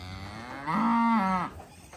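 A single long moo from a cow during cattle pregnancy testing, close and loud, rising then falling over about a second amid quiet barn background.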